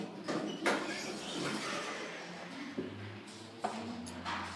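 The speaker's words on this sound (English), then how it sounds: "And we'll watch it close up." An Otis Series 5 elevator's center-opening doors slide shut in a building in San Marcos, California: a steady rumbling glide with a few soft knocks and a final thud as the panels meet.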